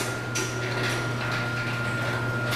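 A home garage door runs past a homemade lumber rack mounted between the door rails, producing a steady motor hum with faint clanks and rattles throughout.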